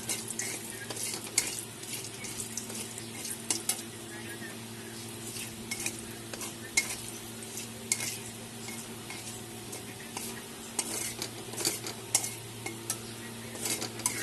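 Soybean chunks fry steadily in a pan, a continuous sizzle with frequent clicks and the occasional tap of a utensil against metal, close and without voices.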